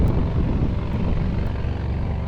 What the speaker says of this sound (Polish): O, jakie piękne dźwięki. Jakaś łódeczka płynie.